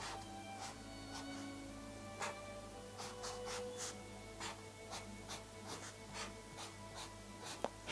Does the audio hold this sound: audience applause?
no